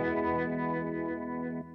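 An electric guitar plays through a NUX Trident multi-effects unit with reverb on, a sustained distorted chord ringing out with a chorus shimmer and short tail before cutting down, alone and fairly quiet.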